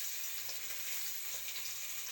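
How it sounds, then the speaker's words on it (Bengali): Small fish frying in a kadai on a home kitchen stove, a steady soft crackling hiss running evenly throughout with no voices. "মাছ ভাজা আমার হয়ে গেছে"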